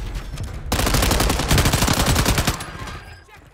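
Rapid bursts of automatic gunfire in a Call of Duty match, dense and loud, with a burst near the start and a sustained volley in the middle before it tapers off.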